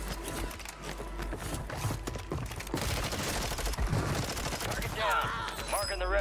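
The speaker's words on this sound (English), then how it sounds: "these mortar strikes are crazy" Mortar strikes and gunfire blasting in the Warzone battle royale video game, a dense run of booms and cracks with a voice talking underneath.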